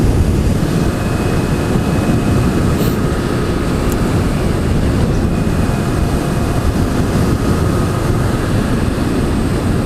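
A 2016 Zero DSR electric motorcycle cruising at about 60 mph on a freeway, going slightly uphill: a steady, loud rush of wind roar with a faint, thin motor whine underneath, continuous throughout.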